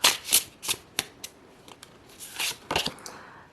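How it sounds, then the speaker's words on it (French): Divination cards are handled and drawn from a deck, with a series of crisp papery swishes and flicks, several quick strokes at first and then softer scattered rustles, close and fairly quiet. "Alors je vais piger juste une carte."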